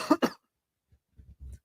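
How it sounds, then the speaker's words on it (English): A man clears his throat with two sharp, close coughs, followed by a few faint, low rustles. "I need to clear my throat."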